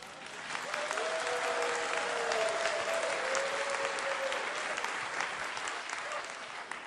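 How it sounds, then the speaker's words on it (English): Steady, sustained applause from a live concert audience at a radio music show, many hands clapping evenly throughout, with a faint held tone sounding briefly underneath. "we'll give you the cue for spontaneous applause"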